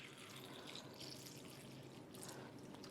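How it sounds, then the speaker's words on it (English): Tap water pours over Nature's Sweet tomatoes in a bag, a quiet continuous trickling and splashing stream lasting a few seconds, no voices. "we're just going to simulate that by pouring some tap water in here"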